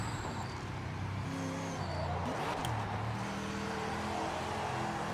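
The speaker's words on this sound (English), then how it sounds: "Engine sounds pretty cool." A race car engine roars steadily in the video game Project Motor Racing, its pitch rising and falling with gear shifts, loud and continuous without a break.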